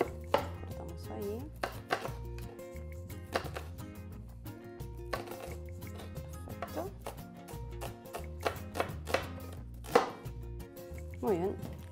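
A knife chopping a garden onion on a cutting board, with a series of close, sharp, uneven taps and cuts, some in quick bursts, separated by short pauses.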